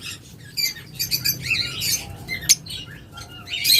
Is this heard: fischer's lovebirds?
yes